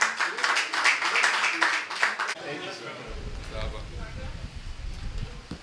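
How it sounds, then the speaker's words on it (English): Audience at a staff capacity-building workshop clapping for about two seconds in a brief burst of close, fairly loud claps, then fading into low rumbling room and wind noise. "A round of applause for him."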